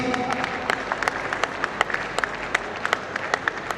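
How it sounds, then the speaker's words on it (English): A crowd claps steadily at a college annual fest, with sharp individual claps standing out in an even, continuous round of applause. "can we have the applause, please?"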